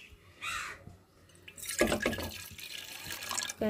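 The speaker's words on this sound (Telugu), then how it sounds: "వాటర్ పోసుకొని" Water is poured into a pan to make tea: a short splash first, then after a brief pause a louder, continuous gushing pour that runs close and steady to the end.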